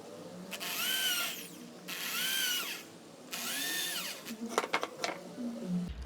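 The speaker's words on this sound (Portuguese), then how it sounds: "Uma cava com a broca de 8 milímetros está ótimo" A power drill with an 8 mm bit bores holes into scrap wood for a small DIY wooden stool, three loud sustained whining bursts with brief pauses between them, then a few short rattling clicks near the end.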